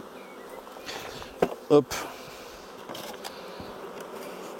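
Honeybees buzz as a steady low drone around an opened hive during an inspection, with a few sharp handling knocks and a brief spoken word over the hum.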